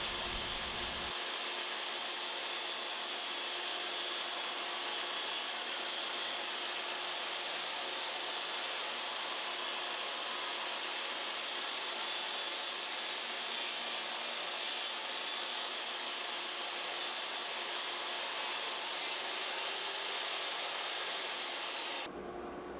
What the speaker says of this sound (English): So I'll let the soothing sounds of the table saw take over from here.